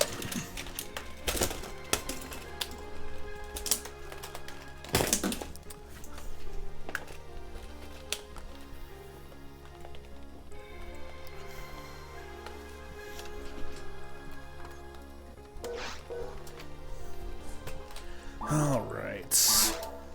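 Clacking keystrokes on a computer keyboard at a home livestream setup, rapid irregular taps running steadily under music or game audio and occasional voice.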